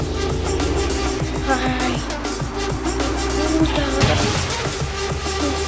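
Car driving in the mobile game GTA 5, a revving game engine with rapid tonal gear shifts and a brief tire squeal, loud and continuous, no talk.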